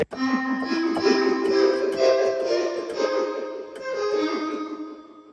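A Casio CTK-691 keyboard plays a tweaked grand piano voice, a moderately loud flowing phrase of bright, sustained notes with gentle chordal movement, heard on its own without talk.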